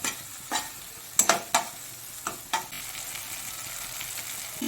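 A spoon scrapes and stirs a salt, turmeric and chili powder stuffing for prawn and pointed gourd dolma in a hot pan, with several distinct scraping strokes over a continuous gentle sizzle.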